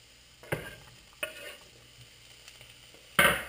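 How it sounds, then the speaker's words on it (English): Food sautéing in a pan, a low sizzle punctuated by a few sharp stirring knocks and a louder clatter near the end. "Let's saute in action."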